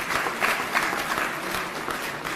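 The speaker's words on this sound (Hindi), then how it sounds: "तो एक बार उनके लिए तालियां बजा दीजिए।" Audience applause at a public speech about a Delhi government employment centre, a dense, steady clapping from a crowd that fills the whole short stretch without speech over it.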